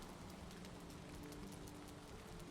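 Steady rain falls in Valheim, a faint, even hiss of drops pattering on surfaces with no break over a couple of seconds.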